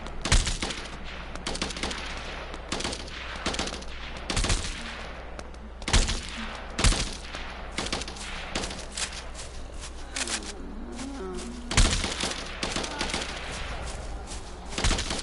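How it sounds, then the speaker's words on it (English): Repeated gunfire while shooting zombies in the survival game Night of the Dead, loud sharp shots in irregular bursts across the whole stretch, mixed with rattling automatic fire and occasional quieter gaps. "I'm pretty sure I've shot some of those zombies as they were spawning in"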